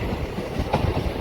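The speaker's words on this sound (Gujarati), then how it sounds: "સાપુર ટ્રેન પહોંચી ગઈ છે અને જુનાગઢથી પહેલો સ્ટોપ આપણે સાપુર લઈ લીધો છે" A train arriving at Sapur station from Junagadh, a close, loud rumble of rolling wagons with a brief rise of wheel noise midway.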